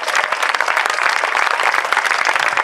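Dense, steady applause from a fashion show audience, loud and continuous throughout with many overlapping claps and no pauses.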